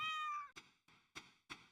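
A cat gives one drawn-out meow followed by four short, evenly spaced chirpy meows, close and clear in a quiet room with no talking.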